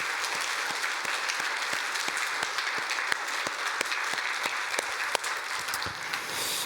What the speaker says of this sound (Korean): 마음으로 정말 이 교회가 떠나가도록 우리 하나님 감동받으시는 귀한 박수 한번